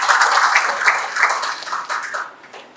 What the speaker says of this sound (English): So give applause to yourself.